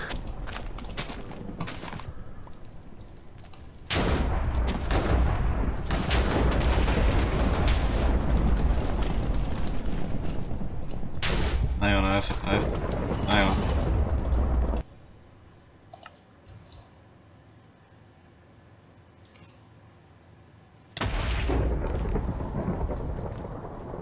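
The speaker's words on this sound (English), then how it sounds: "She's thunderstorms, that's for sure." Minecraft thunderstorm during a night session: loud bursts of thunder and heavy rain roll in and sustain for long stretches, interrupted by a quieter lull before the storm noise surges back.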